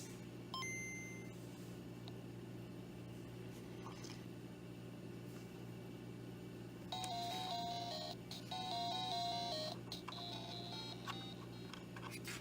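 A restored original Nintendo Game Boy DMG, fitted with a replacement housing and speaker, is switched on and gives off quiet electronic beeps and short tonal chimes through its small speaker, with brighter bursts of tones later over a low background hum.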